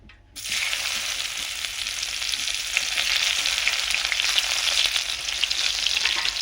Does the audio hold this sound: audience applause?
no